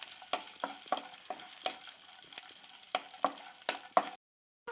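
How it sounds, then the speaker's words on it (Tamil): Chopped almonds and raisins fry in a pan for a sweet tomato halwa, giving soft crackling pops and sizzles in an irregular rhythm before a sudden cutoff near the end. "4 திராட்சை சேர்த்துக்கலாம், இதையும் சேர்த்து நல்லா வறுத்துக்கலாம்."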